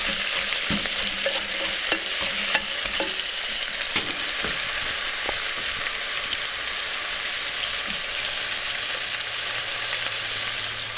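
Seasoned ingredients for black bean soup brown in a hot pan with a steady, close sizzle, broken by a few sharp clicks of stirring against the pan and no talk.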